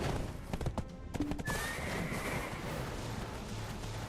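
Hooves clatter rapidly in a video game, then a horse lets out a long, high neigh, followed by continued galloping amid a rumbling, noisy background.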